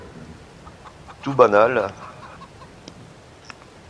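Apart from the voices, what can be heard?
chickens clucking in Farming Simulator 22 video game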